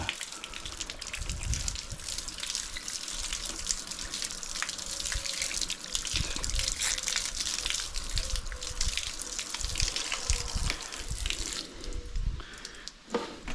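Tap water runs steadily while food is rinsed beneath it, a close, continuous gushing splash with irregular drips and bursts as hands move through the stream, with no talk over it.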